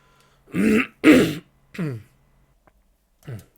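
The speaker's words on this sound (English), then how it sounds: "I'm having a really bad cough today." A person coughs and clears their throat several times, with short pauses between the harsh bursts; close and fairly loud, no talking.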